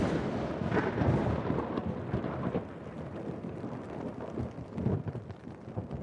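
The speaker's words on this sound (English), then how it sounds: "I could hear rain coming down outside" Steady rain falls outdoors in darkness, a dense, continuous wash with low rumbling swells that suggest distant thunder rolling through, holding at an even level throughout with no voices.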